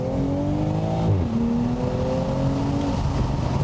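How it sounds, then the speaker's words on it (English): A loud 2020 Toyota Supra A90 engine revs steadily, its pitch dipping at one gear change and then rising again as the car keeps accelerating. "It sounds so good. This motor is so beefy."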